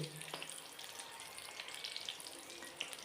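Finely chopped pointed gourd slices frying in a pan, a faint, steady sizzle with scattered small pops and light stirring noises close by.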